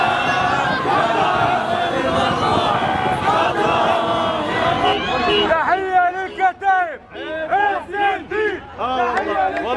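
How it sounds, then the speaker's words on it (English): Dense crowd roaring and chanting in unison around released hostages, loud and continuous, shifting to rhythmic, rising shouted cries near the end. "surrounded by a crowd that's yelling Allahu Akbar"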